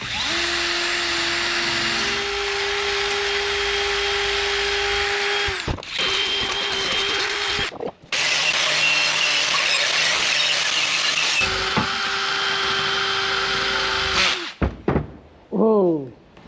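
A power drill with a wire brush scrubs rust from a classic VW Beetle's IRS suspension, loud and sustained with a steady whine, stopping briefly around the middle and ending with sharp squeals as it spins down.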